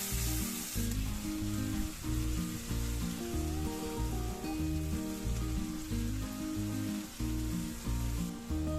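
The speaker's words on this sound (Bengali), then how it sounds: "এখন 1 কাপ পেঁয়াজ কুচি দিয়ে নেড়ে চেড়ে নিচ্ছি।" Chopped onion sizzling and being stirred in hot oil and butter for matar paneer, a steady loud frying hiss throughout with occasional spoon scrapes, close up and without voices.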